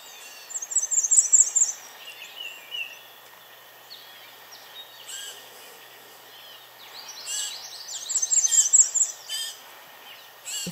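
Very high, thin warbler songs trill in two short bursts several seconds apart, with softer scattered chirps between them, out in the open among birds catching flies.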